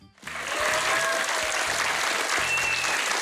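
Applause from a children's audience and guest during a Q&A session with Tata Simonyan, a dense steady clapping that swells quickly and holds strong throughout.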